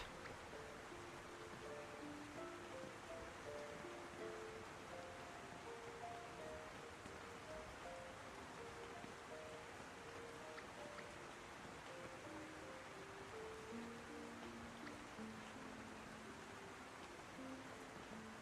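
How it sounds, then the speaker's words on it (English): Heavy rain pours steadily in the Heartopia video game, a dense, even wash of hiss lasting the whole stretch, with faint musical tones drifting underneath and no talk. "it's raining so intensely"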